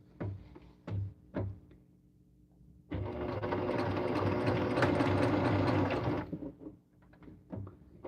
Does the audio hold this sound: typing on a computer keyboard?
no